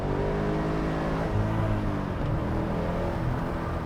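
A Chevrolet Camaro SS 6.2 engine roars steadily and loudly, accelerating hard with a sustained, rising drone throughout, heard close up with no pauses.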